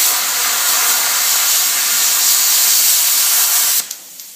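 Plasma cutter slicing through a scrap steel tube, giving a loud continuous hiss and roar that holds steady for several seconds and then cuts off abruptly, followed by a couple of small clicks.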